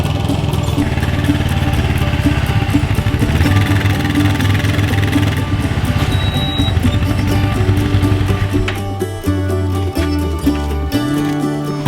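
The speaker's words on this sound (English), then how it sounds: "That's 1 load of firewood on the Kubota Sidekick." The engine of a Kubota Sidekick utility vehicle hauling firewood runs loudly and close, a steady rough diesel chug with rattling that holds throughout and shifts pitch near the end.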